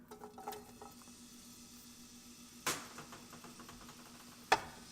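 Ginger sizzling in hot vegetable oil, a faint steady crackle with scattered pops and two sharper clicks standing out, quiet and with no voices.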